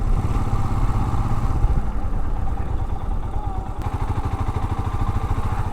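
A vehicle engine running at Siddaganga mutt, a loud steady low rumble with mechanical clatter, continuous throughout.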